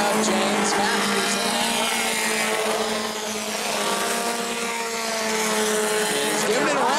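Race car engine roaring at an evening Bomber A feature at New Smyrna as the 25 car works up the field, a loud sustained drone with shifting engine tones, overlaid by an announcer's commentary.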